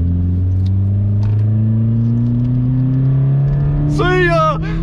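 A Vauxhall Corsa engine pulls hard through the gears on a night drive in town, a loud steady drone climbing in pitch from inside the car, with a brief voice near the end.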